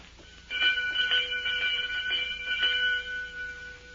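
A doorbell rung as a radio drama sound effect, several sharp metallic rings in quick succession lasting a few seconds, close and clear, with no voices.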